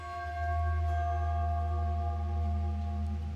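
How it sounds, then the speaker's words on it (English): A doorbell chime inside the horror video game The Casting of Frank Stone, steady sustained bell tones ringing for a few seconds over a low ambient drone, with no talking. "doorbell."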